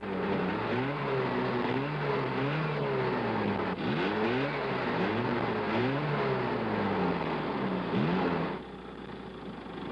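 Triumph Spitfire sports car revving and accelerating through repeated gear changes, engine pitch rising and falling in sweeping waves, loud and near, fading to a quieter hum at the end.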